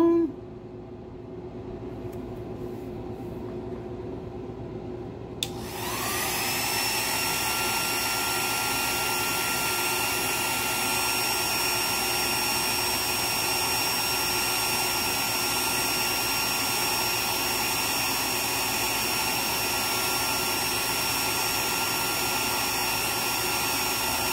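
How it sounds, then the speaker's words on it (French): A hair dryer blowing on silk thread rigged on the sails of a 1/130 scale Cutty Sark model ship switches on after a quiet stretch, then roars in a loud, steady, close whir that runs without a break to the end. "Donc, séchoir."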